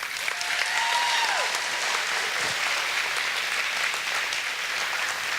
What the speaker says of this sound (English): Can you give me a round of applause for that?